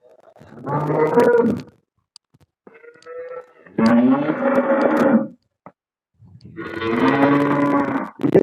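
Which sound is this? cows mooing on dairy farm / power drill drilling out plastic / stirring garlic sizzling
cows mooing on dairy farm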